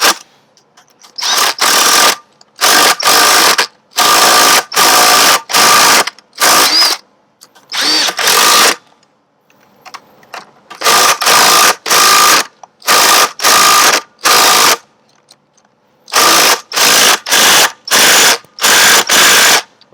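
An old Craftsman ratchet turns a bolt on a Yamaha trim and tilt unit, its pawl clicking in rapid bursts of about a second each with short pauses between, loud and close.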